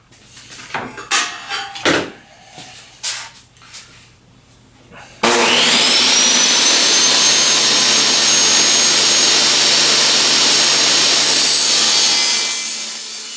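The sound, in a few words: table saw cutting a circle with a circle cutting jig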